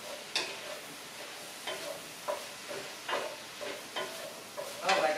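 Canned Trader Joe's plain pumpkin goes into a pot of pumpkin sausage soup and gets stirred, making a series of about seven soft, evenly spaced scraping strokes up close, with a wetter clatter at the end.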